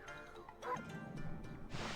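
A dog barks in the video game Okami HD, a couple of short faint yips and a whimpering call over low game ambience and music.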